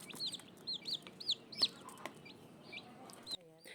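Newly hatched gamefowl chicks peep in a rapid run of high, close chirps, with a soft hen cluck underneath, then quiet at the end.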